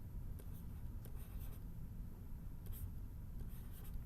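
Pen or pencil writing out a math fraction, a faint, continuous scratching with short strokes and taps, alone without talk.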